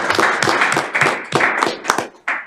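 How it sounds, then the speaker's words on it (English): At a city council meeting, a small group claps for a long-serving city employee, a brief patter of close, distinct handclaps with an uneven rhythm and a short gap before the last few. "I hope all of you will join me in a round of applause"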